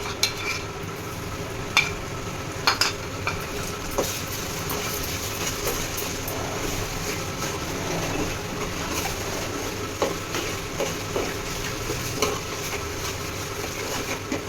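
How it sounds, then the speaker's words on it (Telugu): Ginger garlic paste fries in ghee with browned onions for mutton dum pulao, a steady close sizzle broken by occasional scraping stirs of a spoon against the pot. "అల్లం వెల్లుల్లి పేస్ట్ 2 స్పూన్లు వేసి పచ్చివాసన పోయే వరకు వేయించాలి"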